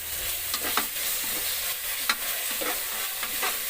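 Ginger garlic paste frying and being stirred in a pan while cooking biryani, with a steady soft sizzle and scattered scraping stir strokes; no voices.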